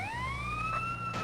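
An ambulance siren wails in GTA The Definitive Edition, a rising, steady electronic tone heard close and fairly loud over a low engine rumble, with no talk.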